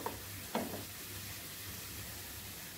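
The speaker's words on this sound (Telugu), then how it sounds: "గరం మసాలా వేసేసుకొని మసాలా పైకి తేలే వరకు నూనె వేయించుకుందాము" Garam masala frying in hot oil for paya curry, a steady soft sizzle with a couple of brief stirring clinks near the start, fairly quiet and close with no voices.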